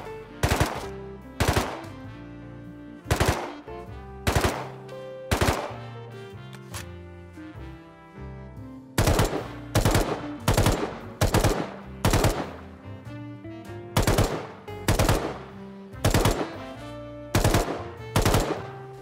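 MP5 submachine gun fired in a video game: repeated rapid bursts of sharp automatic shots, roughly a dozen short volleys spaced evenly with brief gaps, loud and close with no talk.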